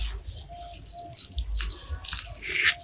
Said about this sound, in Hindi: ये पानी डाल देती हूँ